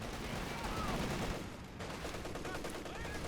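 Sustained machine gun and cannon fire from a Company of Heroes 2 battle, with dense overlapping bursts filling the mix and a brief dip midway before the shooting continues.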